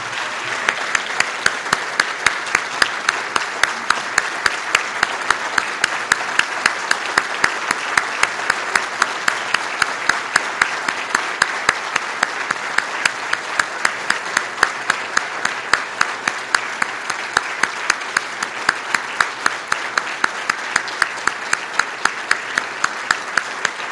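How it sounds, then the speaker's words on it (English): A luncheon audience gives long, steady applause for a guest, the dense clapping holding at an even level throughout with no talking over it. "Applause well deserved, Frank."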